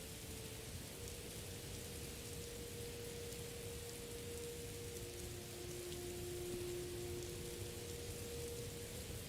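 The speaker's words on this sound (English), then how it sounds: "Outside it's raining" Steady, even rain hiss in Morrowind, with the MWSLU mod, heard from under a tent, soft and continuous throughout with a faint low tone running beneath and no talking.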